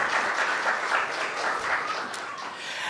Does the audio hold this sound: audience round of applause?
yes